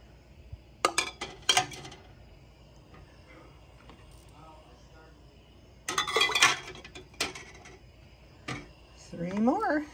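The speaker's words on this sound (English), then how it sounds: "we put warm jars into a warm canner" Glass canning jars clink into a warm canner as they are loaded, with bright glassy knocks in bursts early and again in the middle, plus some handling noise and rising sounds near the end.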